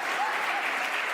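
Church congregation applauding during a sermon, a dense, steady clatter of many hands filling the room, with a voice faintly mixed in underneath.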